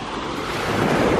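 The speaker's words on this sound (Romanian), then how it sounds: "Ui, dar valurile serioase." Serious, sizable sea waves break on the shore of warm water, producing a steady, loud, broadband rush of surf mixed with gusty wind noise against the microphone and no voices.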